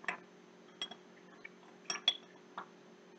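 A spoon stirring food coloring dye in a glass gives a few light, separate clinks against the sides, spread at irregular intervals, quiet and close with no talking.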